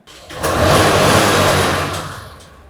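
A Bajaj Discover motorcycle about ten years old fires up on its self-starter, then its engine revs loudly and steadily up close before easing off toward the end.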